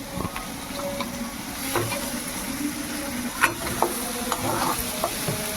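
Pasta, egg and boiled potato frying in a little oil and stirred, with a constant hiss of sizzling and occasional spoon scrapes and clinks against the pan, close up and without speech.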